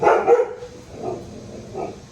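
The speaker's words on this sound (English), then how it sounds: "And my dog's barking." A pet dog barks a few times, loudest in a quick pair of woofs at the start, then two softer single barks follow at a steady spacing, fairly close in an otherwise quiet setting.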